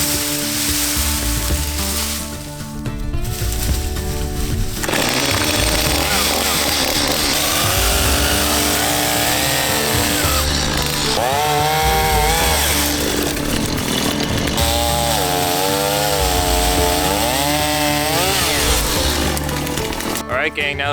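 A chainsaw limbing a felled tree close by, its engine revving and bogging repeatedly through cuts with rising and falling pitch, running continuously with brief idle dips and a person talking faintly underneath.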